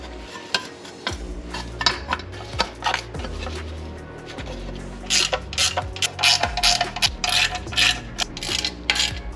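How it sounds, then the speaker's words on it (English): Bracket bolts are loosened on a Honda Civic during a D to B series engine swap, giving rapid metallic ratchet clicking in repeated bursts over a steady low background hum, close and fairly loud. "So I have to loosen this bracket, get this back on."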